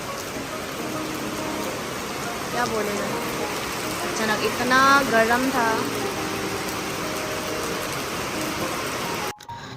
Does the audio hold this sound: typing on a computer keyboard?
no